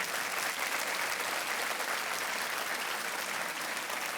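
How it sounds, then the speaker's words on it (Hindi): A studio audience at a televised quiz show breaks into dense, sustained applause, loud and steady throughout with no pauses. "तालियां बजती रहनी चाहिए देवी और सज्जनों"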